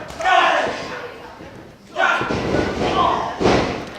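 Hard open-hand chops land with loud thuds during a CZW Dojo Wars wrestling match, several heavy hits heard under commentary and crowd noise.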